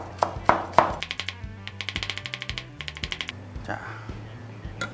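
A knife julienning a halved green onion on a cutting board gives quick, even, close-up knocks in a steady rhythm. A voice speaks briefly at the start.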